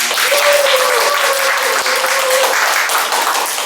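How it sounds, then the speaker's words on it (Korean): Loud, dense audience applause follows the introduction of a judge at a Korean janggu drumming instructor certification event, continuous close clapping from a full room with a faint voice tone running underneath. "박수 한번 주시겠습니다"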